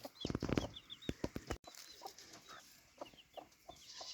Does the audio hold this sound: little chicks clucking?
yes